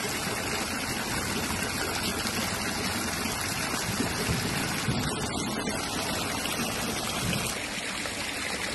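Water pours steadily from the 108 stone spouts of a temple at Tribeni Dham in Hetauda, a continuous broad splashing rush that holds an even level throughout with no voices.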